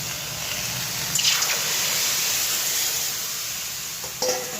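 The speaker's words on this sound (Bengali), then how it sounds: "আমি একটু জল দিয়ে দিচ্ছি।" Water poured into a hot pan of fried cauliflower, potato and tomato for a fish curry, a steady sizzling hiss with short splashing bursts, close and loud.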